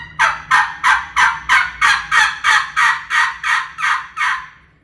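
A reed turkey call blown with increased air pressure gives about eleven loud, evenly spaced yelps in a steady rhythm, close and clear, with the last few slowly trailing off.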